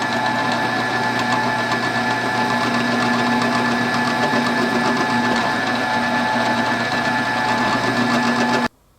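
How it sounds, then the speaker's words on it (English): A drill bores a hole in an ABS GoPro mount with a loud, steady motor whine and grinding hum that holds for about nine seconds and then stops abruptly. "I'm going to drill a hole that's big enough to be able to thread or to place this threaded section of our gooseneck into."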